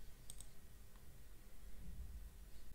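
A couple of faint, crisp mouse clicks on a Windows 11 computer, a quick double tap early on and a softer click later, set against a quiet background hum.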